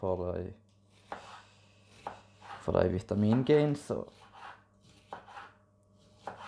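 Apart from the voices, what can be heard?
chopping bell pepper with a knife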